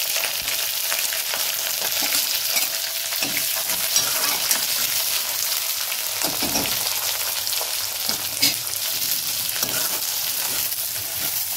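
Onions and green chillies frying in hot oil in a pan, a loud continuous sizzle with intermittent scraping and stirring from a utensil, close and with no talk.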